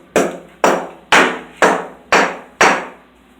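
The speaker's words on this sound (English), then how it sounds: "I guess I need to get a hammer." Hammer striking a nail into a tack strip on a home floor, six loud, close, evenly spaced blows each with a short ringing decay, no voices.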